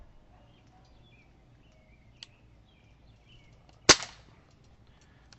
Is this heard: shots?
yes